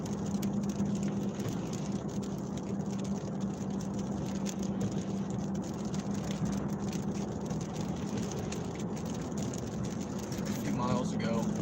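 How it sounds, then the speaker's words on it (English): Steady rain drums on a moving vehicle during a storm chase through southern Iowa, a continuous wash over a low engine and road hum with no letup throughout. "Some rain."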